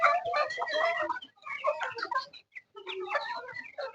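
Chickens cluck busily while being given their feed, a steady, close run of overlapping calls with a short lull near the middle.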